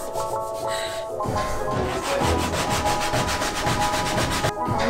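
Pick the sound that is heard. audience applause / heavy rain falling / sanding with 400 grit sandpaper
sanding with 400 grit sandpaper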